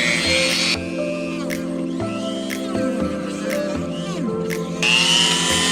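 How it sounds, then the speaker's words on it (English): A rotary tool cuts through a Jeep JL rear OEM bumper plate for a flush-mount LED light, a steady high-pitched grinding whine with pitch dips as the bit bogs down, close and loud with brief pauses. "Now I got a nice rotary tool, or generic Dremel, as most people will call it."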